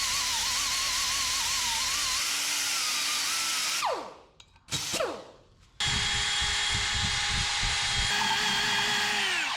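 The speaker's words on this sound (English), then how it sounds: "Use our wire wheel on our corners" A power wire wheel scrubs the frame of a 1976 Chevy Luv clean for welding: a loud, steady whine that dips and cuts out briefly in the middle, then resumes with a harsher, gritty grinding tone.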